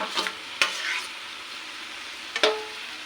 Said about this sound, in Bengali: এরপরে দিয়ে দিচ্ছি আলুটাকে, ভেজে রাখা আলুটাকে, ডিম, ধুন্দুল সব কিছু একসঙ্গে দিয়ে দিচ্ছি।